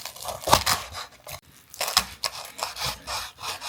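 A knife saws through the crispy, salted skin of a sous vide pork knuckle, making close, loud scraping crunches in irregular strokes, several rasps in a row with short pauses between them.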